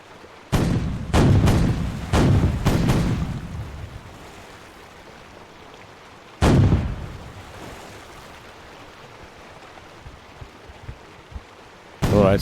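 Cannon fire in The Weather Gage, a naval battle game with a 1793 brig sloop: a quick volley of four or five booming shots, then a single later blast, with waves washing faintly in between.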